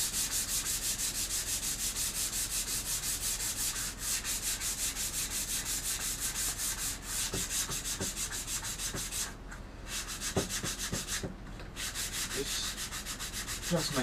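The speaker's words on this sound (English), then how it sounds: "I'm just using a bit of 240 grade sandpaper here, taking off the glue" Sandpaper of 240 grade rubbed steadily along the glued edge of a foam sword, giving a continuous close scratchy hiss with a few brief pauses and no talking.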